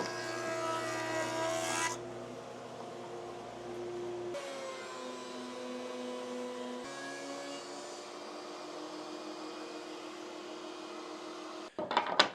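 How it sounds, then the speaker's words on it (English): Wooden boards are fed through a jointer and then a planer, a loud continuous machine drone whose tone shifts abruptly between passes, ending in a short burst of clatter. "Time to get it on the jointer and planer."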